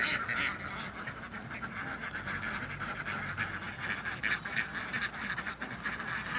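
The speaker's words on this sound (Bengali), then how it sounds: "গোসল করার জন্য হাঁস এখন পুকুরে নামাই দেওয়া হবে" A flock of farm ducks quacks in a dense, continuous chorus as they are let into a pond, the calls overlapping at moderate distance with no talk.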